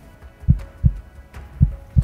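A lie detector machine gives out a signal of slow, evenly spaced low thumps like a heartbeat, four beats, close and clear over a soft hum.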